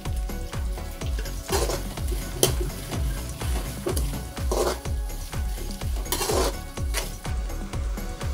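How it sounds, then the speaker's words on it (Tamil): Chopped onions with curry leaves fry in oil in a pan for a Tamil brinjal gravy, with a steady close sizzle and repeated rhythmic scrapes of a spoon stirring against the pan throughout. "வெங்காயம் நல்லா வதங்கிடுச்சு"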